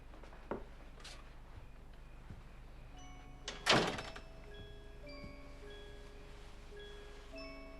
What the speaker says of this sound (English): will you please close the door?